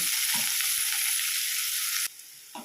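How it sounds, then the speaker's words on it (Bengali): Chopped onion fries in a pan with a loud, steady hiss of sizzling and faint stirring knocks, and the sizzle drops sharply near the end. "দিয়ে পেঁয়াজটাকে আমি 2 মিনিট ভেজে নেব।"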